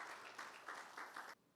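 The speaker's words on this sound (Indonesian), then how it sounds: "Berikan tepuk tangan" A church congregation at a Sunday worship service bursts into applause, several swelling waves of clapping that cut off sharply, fairly faint and distant.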